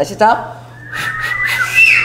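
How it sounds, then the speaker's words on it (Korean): A church congregation whistles together, thin wavering tones drifting in after a single spoken word, several pitches overlapping briefly and loosely. "한번 우리가 휘파람을 한번 불어봅시다"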